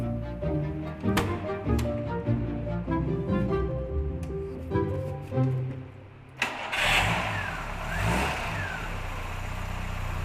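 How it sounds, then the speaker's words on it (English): A classic Ford Laser, restored after 30 years in a barn, cranks and fires up, its engine catching and settling into a loud, close running idle with a brief rev, heard alone. "And then it's the moment of truth as we go for an engine start."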